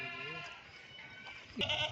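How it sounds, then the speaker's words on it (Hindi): Gabban goats on a goat farm bleating in harmonic, wavering calls, one drawn-out bleat at the start and a louder, sharper one near the end, close by, with faint background noise. "ये देखें क्वालिटी वाली गब्बन बकरियाँ"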